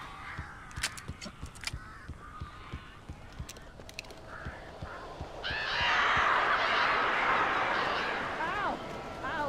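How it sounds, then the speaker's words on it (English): Crows cawing in the Alan Wake video game, a sharp ragged cluster of caws near the start, then a dense swelling flurry of bird cries and flapping that fills the second half, with dialogue between. "These birds are weird."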